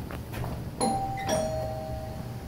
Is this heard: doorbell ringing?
yes